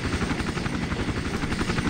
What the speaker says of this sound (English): I don't want that helicopter to hit me.